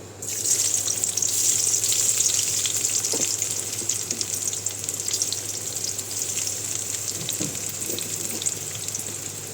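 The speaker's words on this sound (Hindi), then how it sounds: "यहाँ 1 चम्मच सरसों ऑयल डाला है मैंने, और इसमें मैं प्याज डाल दूँगी।" Onions frying in mustard oil in a pan: a loud, constant hiss of sizzling that starts abruptly and holds steady throughout, close by, with a few faint stirring knocks.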